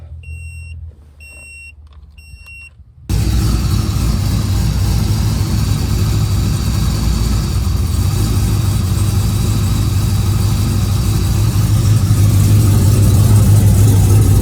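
Three short electronic chimes, then an LQ4 V8 swapped into a Pontiac Firebird Trans Am fires up and settles into a loud, steady idle close by with a deep rumble.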